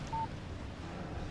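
A short, thin electronic beep of a phone text message alert in the video game Alan Wake, heard once over a steady low background hum.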